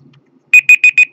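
Android 4.2 countdown timer alarm going off: four short, identical high beeps in an even rhythm, loud and close after a brief quiet moment.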